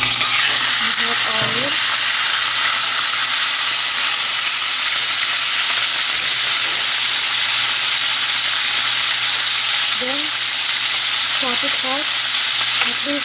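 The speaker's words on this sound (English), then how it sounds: "Then I am going to put cinnamon and cloves. Then I am going to add our mutton pieces." Mutton pieces frying with cinnamon and cloves in a little oil in a pressure cooker, a steady loud sizzle throughout with a few brief stirring scrapes near the start and toward the end.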